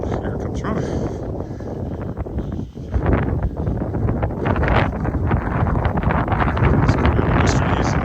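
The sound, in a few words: wind blowing outdoors on a cold winter walk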